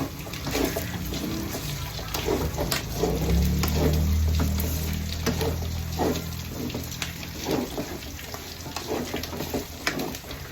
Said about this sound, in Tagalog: habang hinahalo ko nananakit nga yung mantika, nagtatalsikan regu